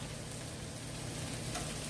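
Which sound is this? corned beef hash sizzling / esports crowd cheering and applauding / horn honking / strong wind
corned beef hash sizzling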